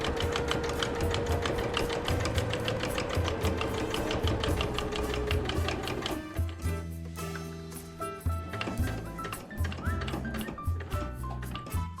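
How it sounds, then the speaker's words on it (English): A sewing machine runs a scant seam on fabric, a steady fast mechanical chatter close by that shifts to a slower, heavier rhythm halfway through. "I'm probably going to need to run a very scant seam because there's not a huge fold underneath"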